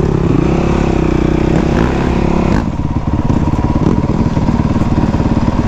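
Honda CRF 450 enduro motorcycle engine, 2018, ridden off-road in cold winter conditions: a loud, close, steady engine drone that drops and shifts partway through into a pulsing, throbbing beat.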